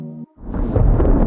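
Rain and thunder in an audio drama: after a brief tonal note cuts off, a loud, close, deep rumble swells and holds with a dense roar.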